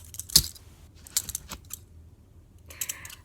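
Small metal handcuff keys jingle and clink in several sharp, scattered bursts close by, separated by quiet gaps, with no talking.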